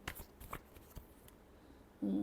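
Tarot cards are shuffled by hand in a quiet room, giving soft papery riffles and taps close by that fade before a brief louder rumble at the end.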